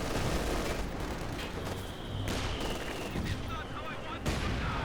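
Gunfire in a 4v4 Company of Heroes 2 match between Soviet and German forces, with dense overlapping shots and heavy booms rolling continuously, loud and close, amid battle noise.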